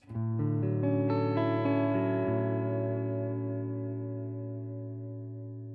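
A clean electric guitar chord on a Relish Jane guitar's neck pickup rings out, notes sustaining smoothly and fading slowly with a warm, rounded tone.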